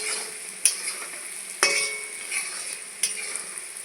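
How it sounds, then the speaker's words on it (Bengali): Fish oil frying in a pan, a moderate sizzle punctuated by three sharp clinks of a utensil striking the pan while stirring, spaced about a second apart. "আর এই মাছের তেল বেশি ভাজা যাবে না, বেশি ভাজলে আবার তেতো হয়ে যাবে"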